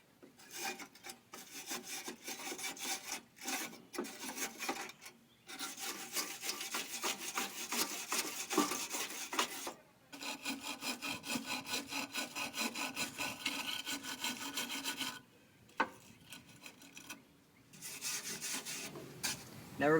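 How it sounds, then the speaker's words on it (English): Wire brush scrubbing loose rust off the metal of a 1966 Mustang during restoration, a close rapid scratching in long bursts separated by short pauses. "With this wire brush, now we're going to try to get any loose rust off."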